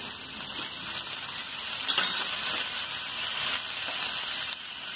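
Onion, capsicum and tomato fry in a pan, a soft even sizzle and steamy hiss with faint stirring scrapes, quiet and steady throughout without talking.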